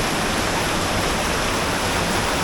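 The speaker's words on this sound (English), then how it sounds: "Water's just shooting out of the rock right there." Water shooting out of a rock face along a hiking trail, heard as a loud, continuous broadband rush and hiss, close by and unvarying throughout, with no talking.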